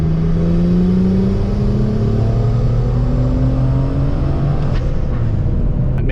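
A BMW N54 turbocharged engine pulls hard in third gear, rising smoothly in pitch as revs climb, loud and sustained from inside the car.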